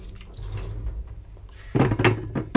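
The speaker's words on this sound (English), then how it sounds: "This is a traditional sink, right on the floor, and that is a tap." Water from a tap runs into a traditional floor-level sink in a 100-year-old Japanese house in Joetsu: faint trickling and dripping at first, then a louder splashing burst near the end.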